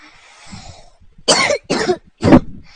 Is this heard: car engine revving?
no